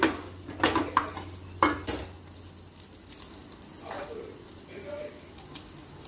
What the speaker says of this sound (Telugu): ఇప్పుడు మూత లేకుండా ఆగనివ్వాలి. ఎర్రగా వేగిద్ది.